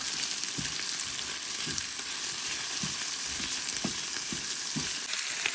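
Tomato and garlic fry in a pan with a steady, close sizzle, broken by a few soft scrapes and taps of stirring.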